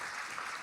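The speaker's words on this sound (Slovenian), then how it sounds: "Še en aplavz za državo Majo." Applause from an audience at a cultural event at a castle, a brief, faint, steady burst of clapping with no other sound.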